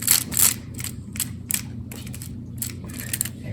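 A Ruger revolver with a sticking, hard-to-open load gate and a cylinder that won't spin freely gives off a series of light metallic clicks and rattles, close up and fairly quiet, with no talking.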